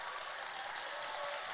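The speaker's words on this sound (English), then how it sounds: "give them all collectively a wonderful round of applause" Steady, dense applause from a crowd, even and continuous throughout with no voices standing out.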